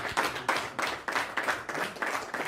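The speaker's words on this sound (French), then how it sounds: "C'est les bergers qui ont applaudi cette bonne nouvelle" Shepherds applaud at a gathering, a small group clapping steadily in a brisk, fairly even rhythm, moderately close and without voices over it.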